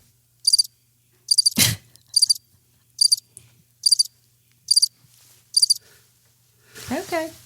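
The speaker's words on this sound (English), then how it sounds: "Was it crickets?" Crisp, high cricket chirps sound in short pulsed bursts, about eight evenly spaced, over near silence, broken by a brief thump and a voice at the end.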